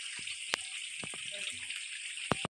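Steady rushing stream of water from a tap, with a few sharp clinks and knocks over the flow.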